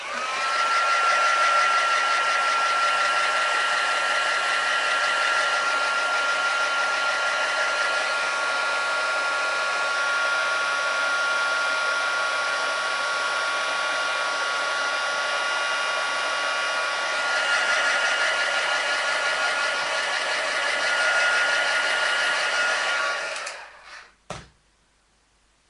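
A hair dryer blows steadily on a freshly painted first layer of an art illustration, a loud continuous whir that holds for over twenty seconds, then cuts off with a few faint clicks at the end.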